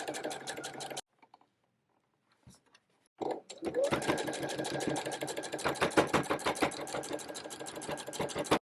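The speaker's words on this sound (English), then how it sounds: "we can go ahead and sew this down, and then we'll fold it over and then sew the other side" A sewing machine sews down the binding on a fur clutch. One short run is followed by a near-silent pause, and then a longer, steady, rapidly ticking whir fills the rest.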